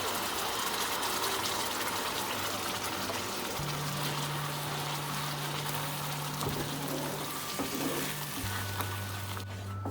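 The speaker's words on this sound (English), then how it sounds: "Now it's time to add the tomato puree." Tomato puree pours into simmering paneer makhni gravy in a pan, a steady wet gushing hiss that runs throughout, joined by a low steady hum.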